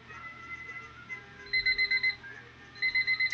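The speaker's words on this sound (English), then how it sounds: "we have hit the timer" A game show timer alarm goes off during a live stream, ringing out in two loud bursts of rapid, evenly pulsed beeps separated by a short pause, with no talk over it.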